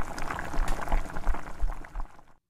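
Water boils on high heat in a cooking pot in a home kitchen, a close, steady bubbling and churning with rolling low gurgles that fade out at the end.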